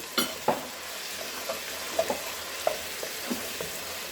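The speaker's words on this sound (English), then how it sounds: "you're just going to stir in your broth here" Broth being stirred into cooked-down flour in a pot for beef stew, with a steady low sizzle under scattered scraping clicks of the spoon against the pot, close and moderately loud.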